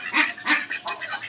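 A domestic duck quacking several times in a row, loud and close, the short nasal calls spaced about a third of a second apart with a sharper squawk near the end.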